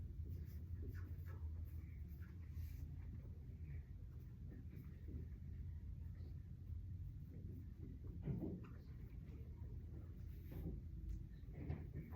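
Students write answers on paper in a classroom during a timed two-minute exercise, pencils scratching softly and steadily over a low room hum, with small shuffles and knocks scattered throughout.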